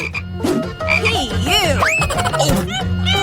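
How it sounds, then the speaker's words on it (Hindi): A frog croaks loudly and repeatedly in a rapid, throaty rhythm, close by, with no other sounds around it. "यह तुम्हारा मेंढक है"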